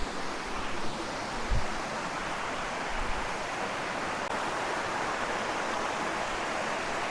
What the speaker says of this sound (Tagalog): Meron pa isang malaking waterfalls doon